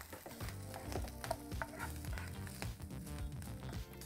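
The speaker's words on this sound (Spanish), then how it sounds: "Ya cuando la tocineta esté un poco dorada," Bacon sizzles and crackles in a frying pan with a faint, steady frying hiss and occasional stirring clatter.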